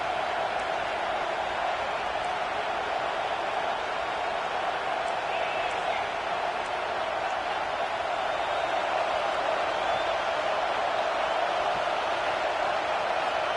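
Football stadium crowd roaring during a goal-line stand, a loud, sustained wash of cheering and noise that holds steady throughout, with no individual voices standing out.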